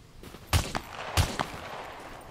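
Gunfire in the SCUM video game: two sharp, loud shots about half a second apart, each followed by a quick echoing crack, with no talking.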